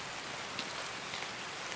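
Steady rain hisses in Escape from Tarkov's Customs map at night, a dense, even wash of falling drops with no voices, fairly soft and continuous throughout.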